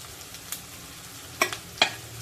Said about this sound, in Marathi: आता या तुपामध्ये आपण जी मेथी काल दुधामध्ये भिजवून ठेवली होती ती परतून घेऊया